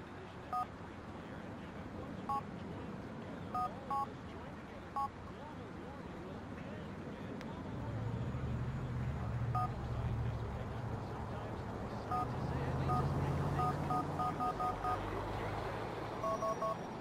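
Cell phone call tones in the video game GTA IV: a series of short, evenly spaced electronic beeps with pauses, over steady low vehicle engine rumble and game ambience.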